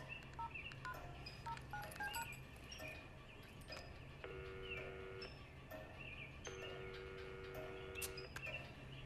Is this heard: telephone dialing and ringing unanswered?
yes